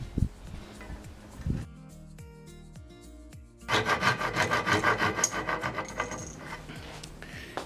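Hand tool trimming a wooden tenon: a few scrapes and taps, then a quieter gap, followed by a run of rapid rhythmic rasping strokes that fades toward the end, close and alone.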